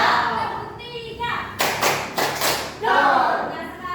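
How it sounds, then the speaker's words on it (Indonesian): Rhythmic clapping from a gathered group of adults at a positive-culture training session, three or so crisp bursts in a row, with talking before and after. "tepuk tiga"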